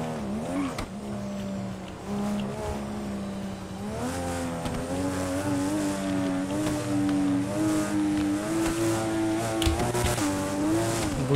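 A Supra car engine in GTA revs and climbs in pitch through repeated gear changes, loud and close, with nitro and a brief screech near the start.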